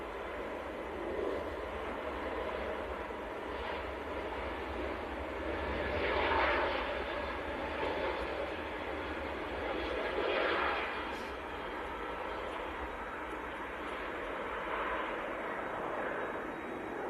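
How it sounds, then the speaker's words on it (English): Turkish Airlines jet rolling for takeoff at Manchester Airport bound for Istanbul, a steady distant engine roar with gentle swells in loudness, heard alone without talk. "next to go we've got Turkish on the roll"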